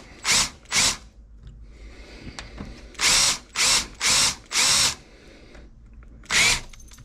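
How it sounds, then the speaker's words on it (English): A power drill drilling out a rivet for a window crank whines in several short bursts, two quick ones, then four longer ones in a row, and a final burst, with quiet pauses between. "you just got to get it drilled down a little more"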